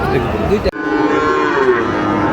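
Sahiwal cattle low at a livestock market, a loud, drawn-out moo close by, briefly broken and then resumed over a steady crowd murmur.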